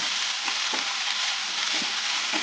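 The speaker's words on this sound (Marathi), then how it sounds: "याच्यामध्ये आता टाकायचं आहे आपल्याला पालक। पालक परतून घ्यायचा।" Spinach sautéing in a pan with fried garlic, a continuous close sizzle with a few soft stirring knocks, no voices.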